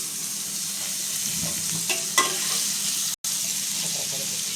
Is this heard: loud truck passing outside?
no